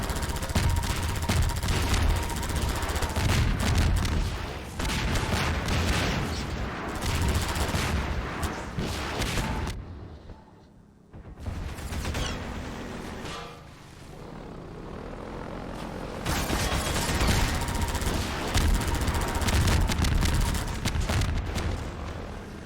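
Gunfire from a weapon in the video game Half-Life 2, dense bursts of loud shots over a droning engine-like roar that drops briefly to near silence partway through, then builds back up.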